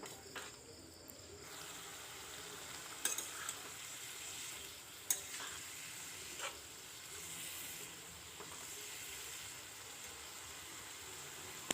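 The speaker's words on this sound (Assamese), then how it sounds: "এতিয়া মই এনেকৈয়ে অলপ সময় কচুখিনি ভাজি থাকিম।" Taro (seni kosu) fries quietly in a pan with tomatoes, a faint continuous sizzle broken by a few sharp clicks of stirring.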